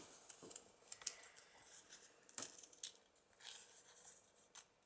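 Scissors snip through paper to cut out a shamrock shape for a St. Patrick's Day table decoration, a series of quiet, crisp, irregular cuts heard close up with no talk.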